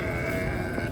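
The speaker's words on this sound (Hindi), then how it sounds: "बकरा है, अच्छा जानवर है।" A goat at a livestock market gives one brief, close bleat amid dense crowd noise and chatter.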